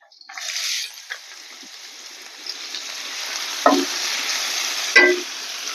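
Onions, cumin, mustard seeds, dry red chillies and curry leaves fry in oil for gongura egg curry, a close sizzle punctuated by a few sharp stirring clatters.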